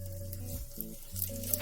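Steady sizzling of sliced sweet potato frying in plenty of oil in a pan over medium-low heat, close by, with a faint hum underneath and a light clink near the end.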